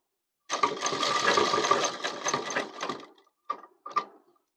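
A sewing machine runs a single close, steady stitching burst for about two and a half seconds on a toddler's pathani kurta, then gives two short quick bursts after a pause, with no talk.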